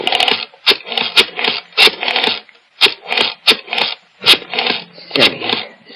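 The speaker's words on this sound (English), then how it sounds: "went to the phone and dialed" A rotary telephone being dialed in an old radio drama: a run of separate whirring, ratcheting bursts, each dial spin clicking back, repeating about a dozen times with short gaps between them.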